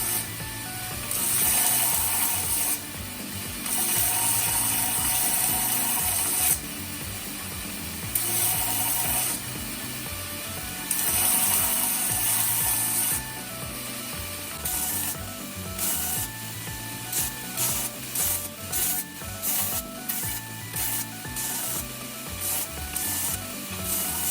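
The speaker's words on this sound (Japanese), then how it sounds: "外周が終わったら表面の黒皮を落とします。" A 440C steel knife blank has black scale removed from its surface, heard as repeated bursts of harsh grinding and scraping that come in longer passes and then in quicker short strokes.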